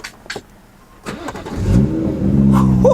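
Car engine starting and revving at a Copart salvage auction yard, a few clicks and a crank before the motor catches, then rising and settling revs close up, loud and alone.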